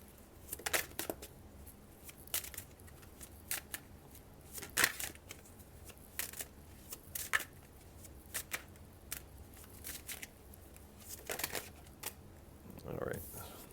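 Tarot cards shuffled during a new moon reading, heard as repeated brisk riffling and slapping bursts spread across the whole stretch, fairly close but soft, with a few quiet vocal sounds.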